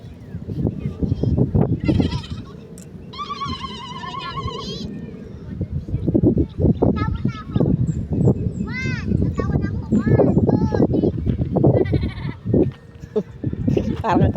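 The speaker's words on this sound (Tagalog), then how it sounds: "Parang kambing ah." Goat bleating outdoors on a farm around dusk, a few wavering bleats rising above steady background noise and nearby voices talking.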